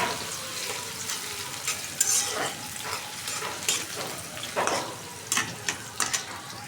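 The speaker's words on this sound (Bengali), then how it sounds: "একটু ভাইজা নিলাম তেলটা, আর পেঁয়াজ কুচি" Chopped onions fry in hot oil in a home kitchen, a soft steady sizzle broken by several brief louder crackles and scraping stirs, close by with no talking.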